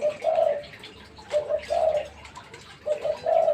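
A Thai decoy dove coos in repeated short phrases, three bursts of soft, tonal calls spaced about a second apart, close and clear over a quiet, faintly noisy background.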